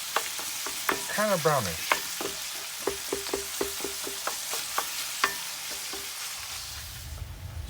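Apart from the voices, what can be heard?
beef frying in a pan, chopped with a spatula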